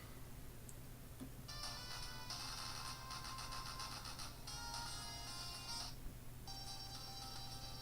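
Tinny, faint music from the small built-in speaker of a Tungsten E2 PDA playing an MP3, in short bright bursts over a steady background hum, with a couple of tiny clicks.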